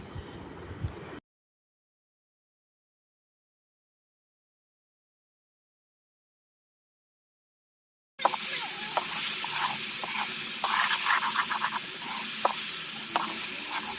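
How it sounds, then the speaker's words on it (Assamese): Chicken meat fries in a pan with onion and spices for a chicken leg curry, a dense close sizzle with scraping stirs, after a short burst at the start and a long stretch of silence. "যিবিলাক মাংস ফ্ৰাই কৰি থৈছিলোঁ সেই সকলো মাংস ইয়াত এড কৰি ধুনীয়াকৈ তাক ভাজি ল'ম"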